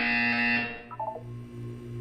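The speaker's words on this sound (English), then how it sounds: "You will hear a buzzer" A buzzer-like alarm tone from the Portal 2 video game sounds loud and steady in the first half-second, then cuts to softer descending electronic blips over a low hum.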